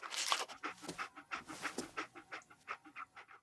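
Dogmeat, the dog companion in Fallout 4, pants in quick rhythmic breaths, close and clear, on its own with no talk over it.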